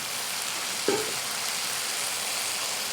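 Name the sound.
onions and chopped garlic frying in a pan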